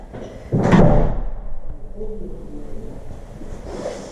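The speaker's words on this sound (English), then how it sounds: "Then just close the door." A house door is pushed shut with one solid thud early on, followed by a quieter room and a faint soft bump at the end.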